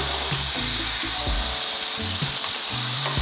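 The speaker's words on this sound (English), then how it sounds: "let me flip these big ass pork chops" Big pork chops sizzle loudly in a frying pan, a constant close hiss with thumps and scrapes as they are flipped, no talking over it.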